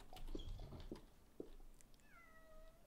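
A cat in the video game Morrowind, in Vvardenfell, gives a faint drawn-out meow near the end, preceded by soft clicks and footsteps.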